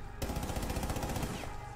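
Rapid automatic gunfire in the video game Rainbow Six Siege, a dense, continuous burst of shots lasting about a second, loud and close, with a short tail of noise as it stops.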